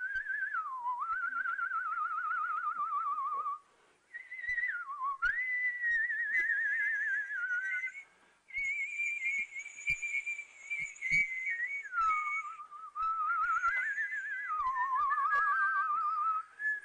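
A man whistles a lilting melody solo, in long sustained phrases with brief pauses between them, sounding close and clear.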